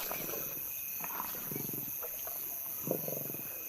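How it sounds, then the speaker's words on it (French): Young lions feed on prey at night in South Africa, giving short growls and grunting snarls in bursts, with a steady insect chorus in the background. "Après une période de famine et de privation, les jeunes lions peuvent enfin se remplir la panse."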